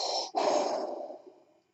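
A voice imitates Darth Vader's heavy helmet breathing: a long hissing inhale, a brief pause, then a drawn-out rasping exhale that trails off into silence, close and fairly quiet.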